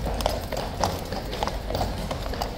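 Horse hooves clip-clopping on the ground at Horse Guards in London, a steady run of close, fairly loud hoof strikes with a restless, uneven rhythm over background crowd noise.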